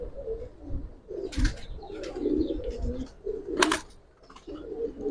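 Pigeons of a flying breed coo repeatedly in a loft, several low throaty coos overlapping near and fairly loud, with occasional brief chirps and a voice talking in the background.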